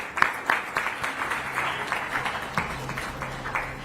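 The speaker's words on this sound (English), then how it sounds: "I believe we can still keep the claps rolling" An audience at a live health awards ceremony applauds steadily, a crisp, continuous patter of many hands at moderate volume without pause.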